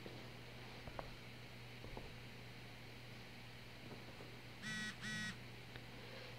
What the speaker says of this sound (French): SMS de groupe.